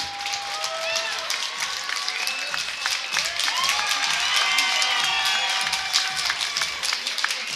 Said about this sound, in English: Let's have a round of applause for our two fighters in an amazing main event.